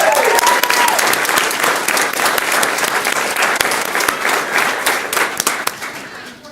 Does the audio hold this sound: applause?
yes